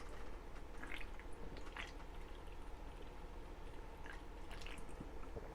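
A drink is taken to wash down a freshly made sandwich, with close, wet liquid and gulping sounds running steadily under a faint room hum.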